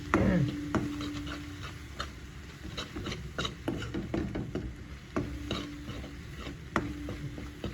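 Chicken with turmeric, chutney and spices is stirred and sautéed in oil in a pan, a spoon scraping and rubbing steadily in close, uneven strokes over a faint sizzle.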